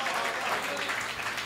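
An audience at a Hindi comic poetry gathering claps loudly and continuously, a dense burst of applause filling the room.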